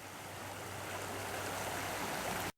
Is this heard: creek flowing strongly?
yes